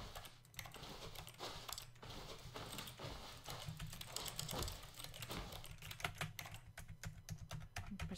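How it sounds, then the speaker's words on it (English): Rapid keyboard keys pressed over and over in a steady clatter, close and fairly loud throughout, with a low background hum and no talking. "I'm pressing every button I have on my keyboard right now."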